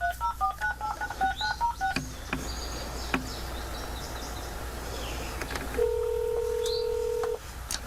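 A phone keypad beeps out a rapid string of short dialing tones while a call is placed, then pauses before a steady, longer call tone sounds near the end, all fairly quiet against faint background hiss.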